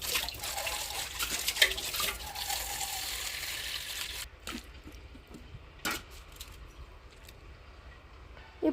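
Pieces of ivy gourd rinsed in water in a kitchen, a splashing, sloshing wash for the first half followed by quieter drips and a few sharp splashes and knocks, no talking.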